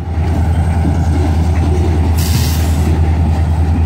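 A lone SD40-2 diesel locomotive hauls a very long freight train of 80-plus cars, heard as a steady, loud rumble of engine and rolling cars, with a brief higher hiss partway through.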